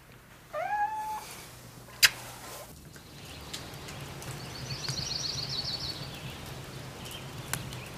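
A house cat gives a short rising meow near the start, followed by a sharp knock and a brief high chirping sound over a low background hum.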